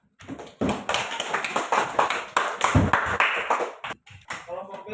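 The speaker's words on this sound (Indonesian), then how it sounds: "ya tepuk tangan." Children clap their hands together in a dense, uneven burst of slaps that runs for several seconds. It stops abruptly, then a quieter patter follows.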